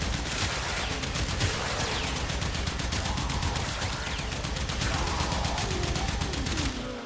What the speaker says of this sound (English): And now shoot the heavy gunners.